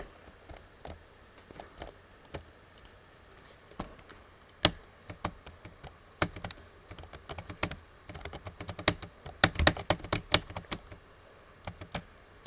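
Computer keyboard keys are hammered during an arcade game, irregular clusters of sharp clacks that speed up into a frantic flurry near the end, close and alone without talk.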